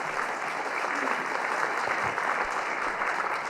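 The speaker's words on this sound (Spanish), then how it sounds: "Fuertes aplausos al Rey de Reyes y al Señor de Señores" A church congregation applauds steadily and densely throughout, a sustained wash of many hands clapping at an even, moderately loud level.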